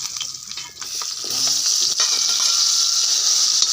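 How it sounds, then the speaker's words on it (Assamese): Fish pieces half-frying in hot oil for a fish curry, a steady bright sizzle that swells louder after the first second and holds, with a few soft stirring scrapes near at hand and no voices. "এইকেইডোখৰ হাফ ফ্ৰাই কৰিছোঁ"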